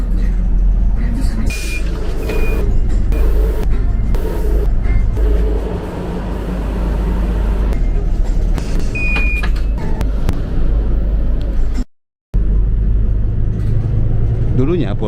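Interior of a TransJakarta Scania articulated bus on a late-night ride, with a loud continuous engine rumble and road drone, a few brief beeps, and a short dropout near the end. A voice talks over it.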